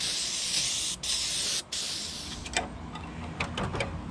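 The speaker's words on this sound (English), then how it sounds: "what I like to do is spray it off with some brake cleaner" Brake cleaner sprayed onto parts of a Stihl 031AV chainsaw during a restoration, a steady close hiss that runs continuously with two brief cut-offs, followed by a few short bursts near the end.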